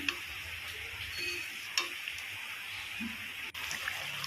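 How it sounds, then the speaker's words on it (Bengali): Hilsa broth seasoned with a little sugar and ground black pepper simmers in a pan, giving off a faint, steady hiss and soft bubbling with a few light clicks and no one talking. "আন্দাজ মতন জল দিয়ে অপেক্ষা করলাম ঝোলটা ফোটার জন্য"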